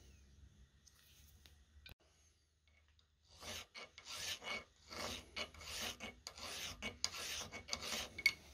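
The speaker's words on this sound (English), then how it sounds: "maybe do a bit of filing with the bracket" A hand file rasps against a small metal bracket for a pit bike's LCD gear indicator, starting faint and sparse, then settling into steady, close, repeated back-and-forth strokes.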